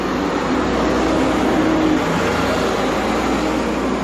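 A city bus drives past on a busy road in Charleroi with a loud, steady engine roar close by, holding at one level for several seconds with no speech over it.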